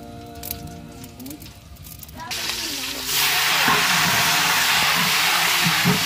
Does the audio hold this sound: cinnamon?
yes